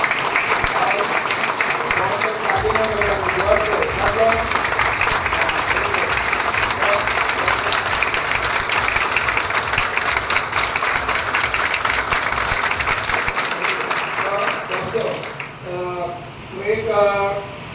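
Lecture audience claps steadily for a long stretch, a dense, even roar of many hands that tapers near the end as a voice begins speaking.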